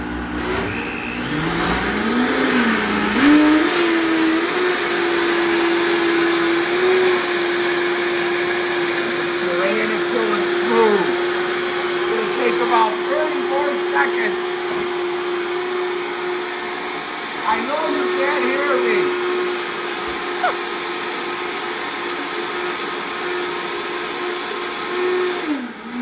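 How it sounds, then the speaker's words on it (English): A blender whirs steadily as it purees a dairy-free cheese sauce for macaroni, a loud continuous motor drone with shifting pitch that runs the whole time, with a voice occasionally heard under it. "I would recommend doing it in a blender. So here we go."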